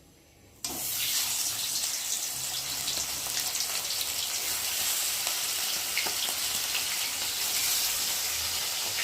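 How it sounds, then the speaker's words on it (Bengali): Fasa fish coated in salt and turmeric drops into hot oil in a pan, starting a sudden loud sizzle after a quiet moment that stays steady and intense for the rest of the clip. "এখন এই যে নুন হলুদ মেখে রাখা মাছগুলোকে দিয়ে ভালো করে ভেজে নেব।"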